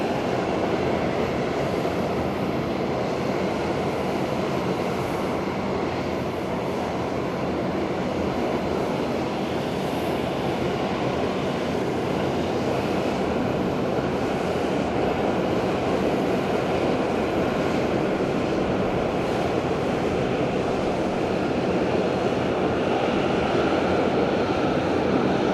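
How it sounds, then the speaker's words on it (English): A Boeing 787 Dreamliner arrives at Fukuoka airport, a long, unbroken rumbling jet roar at steady loudness throughout, with no voices. "incoming Dreamliner"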